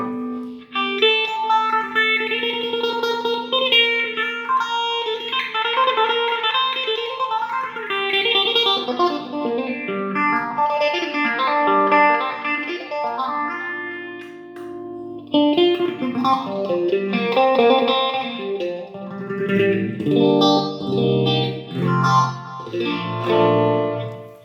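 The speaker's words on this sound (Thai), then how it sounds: "ตัวนี้จะเป็นตัวเพิ่มความเข้มของเสียงเฟเซอร์เนาะถ้าเราปรับหลายมันก็เข้มหลาย" An electric guitar played through the phaser effect of a Boss ME-20 multi-effects pedal, chords and melodic lines swept by a strong, swirling, whooshing modulation that rises and falls repeatedly, loud and close with no talking.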